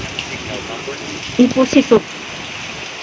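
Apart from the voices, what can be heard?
heavy rain during a typhoon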